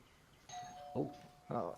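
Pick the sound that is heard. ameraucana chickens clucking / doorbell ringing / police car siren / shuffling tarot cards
doorbell ringing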